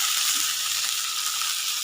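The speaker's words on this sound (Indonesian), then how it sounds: "Sekarang aku mau goreng ikan terinya dulu ya" Anchovies fry in hot oil with a steady, bright sizzle that fills the short stretch evenly and close up, without any talking.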